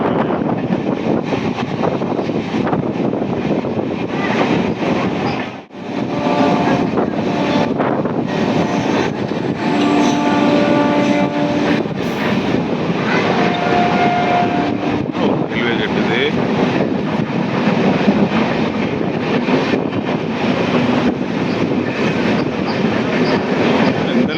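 A train runs along the Karaikal–Peralam railway line, its steady loud rumble and wheel clatter filling the whole stretch with one brief dip partway through, with voices faintly present.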